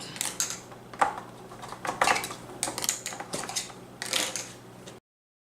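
Keto fudgesicle mixture is spooned into a mold, with a spoon clinking and scraping against the containers in quick, uneven bursts, close and moderately loud, then cut off abruptly.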